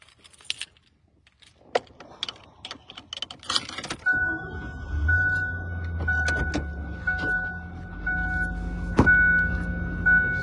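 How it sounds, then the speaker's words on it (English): A car approaches along a road, its low engine rumble swelling and holding steady after a few quiet seconds of scattered small clicks and taps, with a faint tonal whine running above it. "here comes a car right now"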